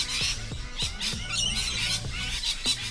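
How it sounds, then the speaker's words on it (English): A parrot's recorded call plays in a sound guessing game, a run of sharp, close squawks and chirps repeating about every half second. "Parrot? Yeah, parrot."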